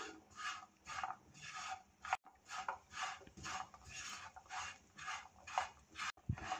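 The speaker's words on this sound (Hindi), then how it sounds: "इसमें लगातार चम्मच चलाते जाएंगे यहाँ तक कि सब शक्कर अच्छी तरह से पिघल जाए।" A spoon scrapes and stirs steadily through melting sugar and white sesame seeds in a pan, a repeated rhythmic rasping heard close up with no talk.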